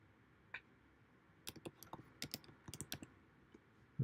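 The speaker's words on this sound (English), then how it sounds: "I'm clicking on my computer." Scattered clicks and keystrokes on a computer keyboard in a studio, close and fairly quiet, arriving in irregular bursts with short pauses between them.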